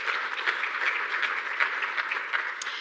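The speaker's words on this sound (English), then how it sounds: "A round of applause for them, please." Sustained audience applause at a climate resilience symposium, a steady dense patter of many hands clapping at moderate volume for a few seconds with no talk over it.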